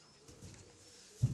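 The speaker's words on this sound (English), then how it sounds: "They also raise pigeons here." Pigeons raised at a desert oasis farm in Siwa, Egypt, give a low, soft coo near the end, following a quiet stretch of faint background ambience.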